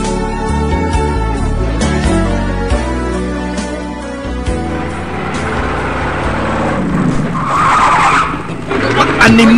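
A car skids to a stop while blocking a bus, with a loud, drawn-out tire squeal over engine noise. The sound builds toward the end as voices are heard.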